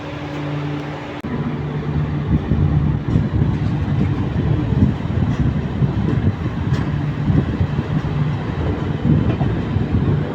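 Tourist Express train pulling out of Siliguri Junction on the New Jalpaiguri–Alipurduar run, with a steady loud rumble, low hum and faint rail clatter throughout, near and continuous, no talk.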